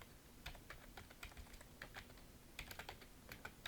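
Fingers type on a computer keyboard while entering text in PowerPoint during ITQ exam practice, giving quiet, irregular clusters of light key clicks over a faint room hum.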